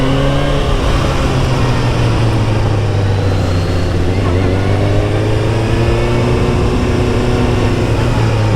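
A 600 sport motorcycle engine drones steadily while riding, loud and close, its pitch sliding slowly lower and then climbing again, with wind rush mixed in.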